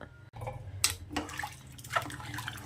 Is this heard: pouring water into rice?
yes